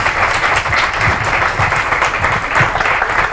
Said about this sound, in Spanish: animaros a darle un aplauso para que empiece con ganas